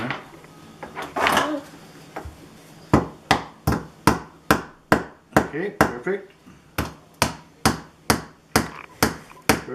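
Hammer striking nails into a wooden bird house roof, about fifteen sharp evenly spaced blows in a steady rhythm after a short pause, close and loud, with brief talk near the start.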